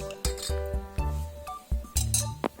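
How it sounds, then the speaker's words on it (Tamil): Millet rice, salt and curd are mixed in a metal vessel, and a spoon clinks against the sides in a series of ringing knocks with short, irregular pauses. "எல்லாம் போட்டு நல்லா மிக்ஸ் பண்ணிக்கோங்க."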